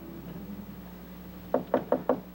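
Four firm knocks on a wooden door come in an even, quick rhythm near the end, after a stretch of quiet room tone with a faint low hum.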